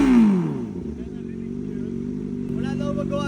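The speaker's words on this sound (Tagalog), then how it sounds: "tingnan mo bago kong big bike ko" A 4000cc big-bike superbike engine idles with a loud, steady, low rumble after a falling burst of revving at the start, while people talk nearby.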